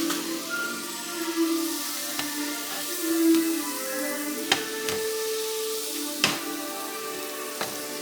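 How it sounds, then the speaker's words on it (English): A stick of butter melting in a pan sizzles steadily at close range, with a few sharp pops and crackles scattered through and no talking. "I'm putting a stick of butter into my pan"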